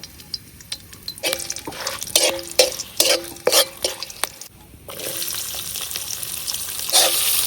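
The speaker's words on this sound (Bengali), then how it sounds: "এখন আলু ভাজার তেলের মধ্যেই দিয়ে দিতেছি তেজপাতা, দারুচিনি, এলাচ, লবঙ্গ" Bay leaves, cinnamon, cardamom and cloves sizzle in hot oil left from frying potatoes while a utensil scrapes and clinks against the pan in quick, irregular strokes.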